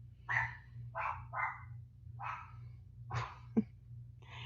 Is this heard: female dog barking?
yes